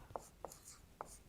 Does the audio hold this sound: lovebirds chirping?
no